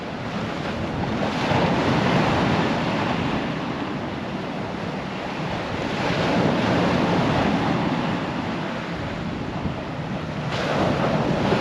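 Steady wash of sea waves breaking on a Holderness coast beach at Tunstall, with gusting wind buffeting the microphone, loud and continuous for several seconds, swelling and easing slightly with no voices.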